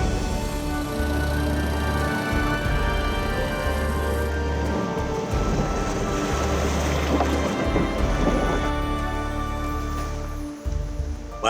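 Boat ride across a river in Bolivia's Amazon jungle: a steady, loud outboard motor drone with water rush and wind noise, continuous throughout without speech.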